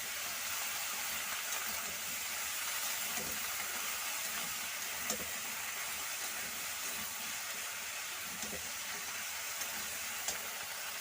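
Okra and shrimp frying together in a pan for a Bengali bhindi chingri dish, giving a steady, even sizzle and hiss with a few faint clicks, close and unbroken throughout.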